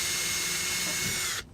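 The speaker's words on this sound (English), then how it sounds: "Now there's a pilot hole all the way through, so it'll drill easy all the way through." A power drill bores through a boat brush pole extension, a steady whirring grind held close for about a second and a half before cutting off abruptly.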